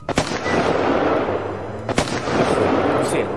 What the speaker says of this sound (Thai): อันนี้ปืนกลครับ